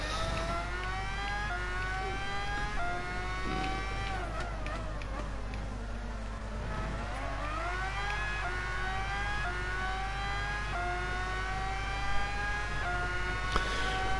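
Race cars in GT Sport drive at high speed, engines whining steadily with rising and falling pitch as gears shift and rivals pass, a dense continuous roar throughout.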